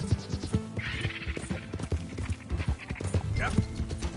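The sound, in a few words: donkey braying and hooves in Red Dead Redemption 2 video game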